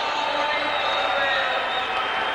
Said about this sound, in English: You heard the crowd get a little excited.